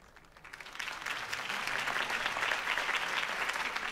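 Crowd applause after a campaign speech in a Batman video game, a steady wash of many clapping hands that swells in within the first second and holds evenly to the end, with no voices over it.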